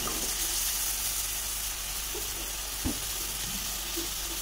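Vegetable curry fries in a pan with a steady, even sizzle that carries on throughout, close by, with one small knock partway through and no talking.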